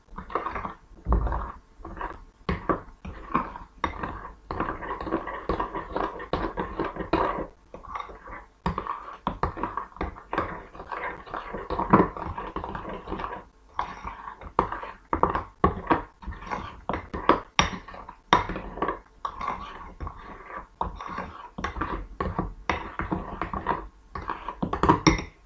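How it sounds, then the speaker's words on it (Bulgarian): A whisk beats milk in a bowl for Easter cookie dough, quick rhythmic clinks and taps in uneven bursts with brief pauses, close and fairly quiet. "Трябва да шупим млякото."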